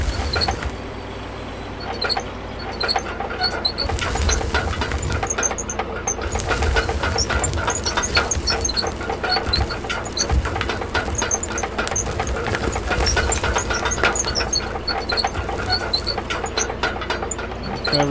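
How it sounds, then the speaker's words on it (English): A tunneler drill runs in the video game Out of Ore, set in an arctic winter map, grinding and whining with a steady engine drone and rapid rattling chatter that continues loud and close throughout, with no talk over it. "low gear and drill bit on."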